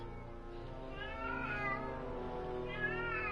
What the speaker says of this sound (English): Hush! Cat.